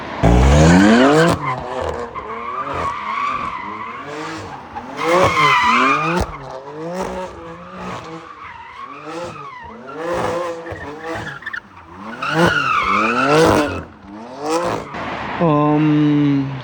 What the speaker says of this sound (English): I can't lie, I did drift it a little bit the other day.